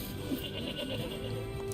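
A sheep bleats faintly in the Nier Replicant video game, one brief wavering call set low under steady background game ambience.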